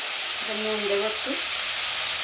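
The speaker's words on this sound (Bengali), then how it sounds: "এটা ভালো করে ভেজে নেবো।" Fish and potatoes fry in a pan with salt and turmeric for a Bengali potol-aloo fish curry, giving a steady, loud sizzling hiss throughout, with a voice briefly heard over it.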